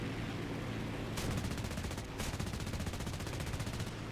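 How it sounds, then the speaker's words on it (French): Aircraft machine guns firing in the War Thunder arcade mode, a loud, dense rapid burst of gunfire over steady engine roar, continuous through the clip, with no voices. "J'ai mis une petite rafale, mais ça ne suffira pas"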